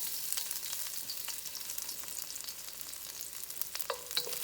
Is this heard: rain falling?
no